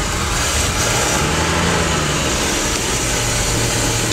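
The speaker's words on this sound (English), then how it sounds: "Gotta love that sound of that old GM straight stick." An old GM vehicle with a manual straight-stick gearbox and a newly working carburetor runs with a loud, steady engine drone, close by and unbroken, with no voices.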